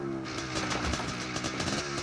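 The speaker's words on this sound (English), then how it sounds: "Will you stop revving that thing?" A motorcycle engine revs continuously, close by and rough, with a throaty, fluttering drone that rises and falls, in a scene from the 1998 film Better Living.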